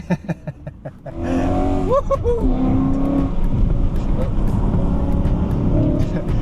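A car engine roars loudly and continuously after a brief quiet start with a few sharp clicks, its revs climbing and dipping; people talk excitedly over the sustained engine noise.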